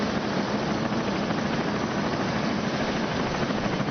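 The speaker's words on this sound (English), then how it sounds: "a growing light in the sky reveals a helicopter is soon arriving" A helicopter arrives at a hospital at night, its rotor and engine making a steady, loud, dense roar with a low throbbing rumble that holds without pause throughout.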